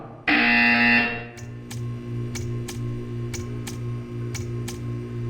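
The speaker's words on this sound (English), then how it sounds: "You will hear a buzzer." A loud electronic buzzer from the video game Portal 2 blares for about a second, followed by a steady low hum with a series of sharp clicking ticks.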